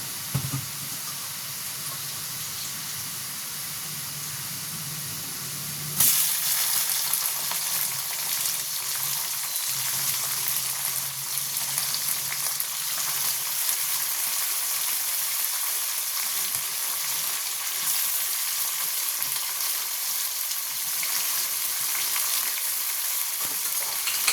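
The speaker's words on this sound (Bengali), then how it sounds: "দেখুন আমার পেঁয়াজটা লাল লাল ভাজা হয়ে গেছে। এবার আমি চিকেনটা দেবো।" Chicken hits a pan of browned fried onions and is stirred: a soft, low frying hum jumps abruptly into a loud, dense sizzle that stays steady for the rest of the stretch, close up and without speech.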